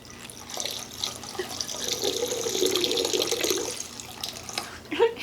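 Homemade ginger beer poured from a height into a container, a continuous splashing, gurgling stream that swells midway and then tapers off, with a brief spill at the end and faint talking nearby.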